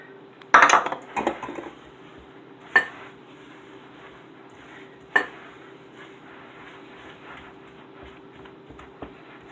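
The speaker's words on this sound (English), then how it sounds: "We're going to grab a wooden spoon. We're going to mix in 1 cup of oats." A wooden spoon stirs oats into batter in a bowl, with a few close knocking scrapes and clunks early on, then sparse isolated taps against the bowl amid quiet pauses.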